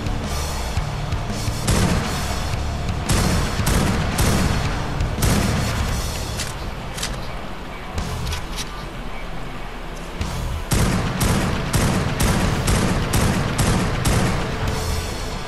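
Gunfire while shooting at creatures in a bat cave in ARK Survival Evolved, dense bursts of loud cracking shots and booms in rapid clusters, pausing briefly midway before resuming.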